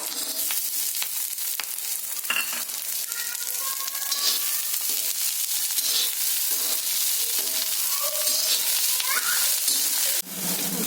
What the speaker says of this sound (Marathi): इकडे चटचट आवाज येतोय आहे शेंगदाणे भाज म्हणजे भाजायला